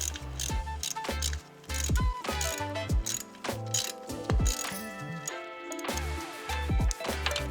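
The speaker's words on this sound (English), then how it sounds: "I'm just cracking them all fairly loose before I take them all the way out" A hand ratchet with a 3/16 Allen bit cracks loose the rocker box bolts on a Harley-Davidson, giving repeated close clicking and ratcheting bursts with short metallic knocks between strokes.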